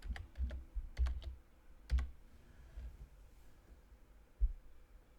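Quiet computer keyboard typing while entering a search in Excel, a few quick clusters of soft key clicks followed by a pause and one last isolated tap, no voices.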